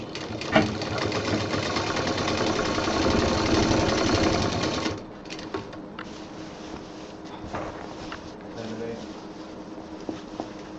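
Sewing machine stitching a double seam on a fabric handbag handle, a loud, fast steady whirr for about five seconds before it stops, followed by quieter handling clicks while a person talks.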